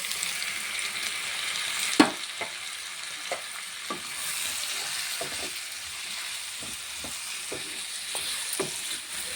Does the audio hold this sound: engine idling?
no